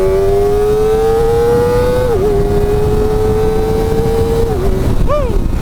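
A 2024 Kawasaki Ninja ZX-4RR engine screams high as it accelerates hard to overtake, a steady rising whine with brief dips at gear changes, loud and close with wind rush.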